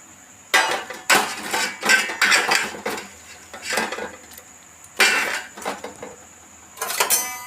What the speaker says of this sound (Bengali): জল ফুটে গেছে, এবার আমি পেঁপেগুলো সেদ্ধ করতে দিয়ে দেব।